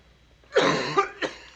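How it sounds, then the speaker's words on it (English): A man coughs in a tense family drama scene: one harsh, sustained cough followed by two shorter hacking bursts, close and loud against a quiet room. "Stop coughing, lad."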